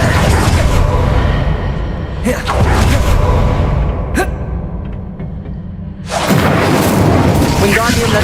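The Incendio fire spell is cast in the video game Hogwarts Legacy, giving loud whooshing, booming bursts with a quieter lull between them, while a person talks over the action.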